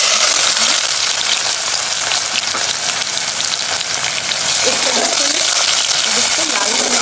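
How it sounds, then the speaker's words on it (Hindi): Onions hit a cup of hot oil in a pot for a degh-style beef korma, sizzling and crackling loudly and continuously at close range, a dense bubbling frying noise with no talk. "मैं इसको गरम ऑयल में डालूंगी।"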